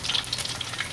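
Shrimp peyek crackers frying in hot oil give a steady, close crackling sizzle with dense bubbling and small pops throughout, no voices.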